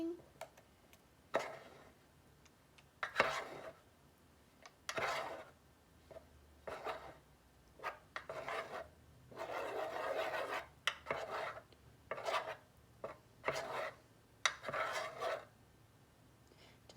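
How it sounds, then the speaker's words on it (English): Homemade sidewalk chalk paint being stirred in a bowl, giving repeated scraping, rasping strokes in irregular bursts with quiet gaps between them, close and fairly soft. "we're gonna mix it together in our pan or our bowl or whatever it is we're using"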